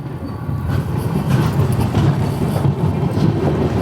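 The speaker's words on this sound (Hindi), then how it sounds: "1:23 पर हमारी ट्रेन निकली है केसिंगा से।" The Visakhapatnam–Mumbai LTT SF Express (22847) rumbles along after leaving Kesinga station, a steady dense low roar heard from inside the train.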